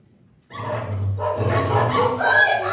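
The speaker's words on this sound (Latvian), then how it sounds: "Vai, tie suņi!" A dog pack barks and yelps in a dense, continuous clamor that starts abruptly after a brief quiet moment and stays loud and close throughout, with no clear speech over it.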